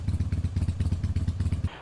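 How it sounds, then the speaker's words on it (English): A 2022 Harley-Davidson Iron 883 Sportster idles close by with a loping, uneven potato-potato thump in regular pulses, then cuts off abruptly at the end. "an engine with a classic potato sound"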